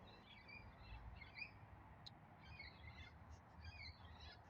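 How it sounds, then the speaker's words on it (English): Outdoors, several birds chirp and call in short, scattered bursts at a distance, faint over a steady low background hum of wind or traffic. "those are birds."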